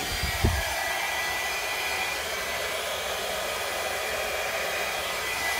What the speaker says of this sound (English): grab my little hair dryer and blow this out on the medium speed